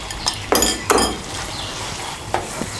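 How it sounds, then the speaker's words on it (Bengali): Fried pointed gourd pieces drop into a pan of spiced yogurt masala, giving a few close clattering scrapes and clinks of a spatula over a faint sizzle. "এখন এর মধ্যে আমি দিয়ে দেবো ভেজে রাখা পটল।"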